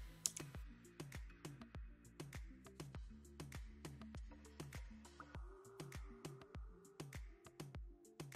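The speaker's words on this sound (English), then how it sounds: "You can just click on this button here." Clicks and keypresses on a Fantech MK885 Optimax optical mechanical keyboard, a steady run of crisp, close taps in quick uneven rhythm, like continuous typing with no voices.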